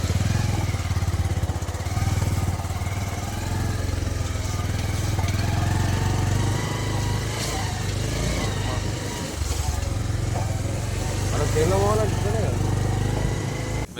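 A motorcycle engine chugs with a loud low drone on a muddy road, running steadily throughout while people talk over it.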